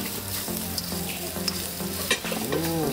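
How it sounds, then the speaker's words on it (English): Fried rice with sesame oil sautéing in a pan during a Balinese cooking class, a loud continuous sizzle with occasional scrapes and clinks of the utensil, and a tonal hum and a rising whine partly over it. "we do saute like this, chef."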